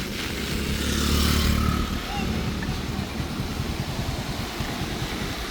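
A motorcycle engine roars nearby, swelling louder before settling into a steady rumbling drone with faint background noise, as motorcycles are loaded onto a vehicle in a flooded area.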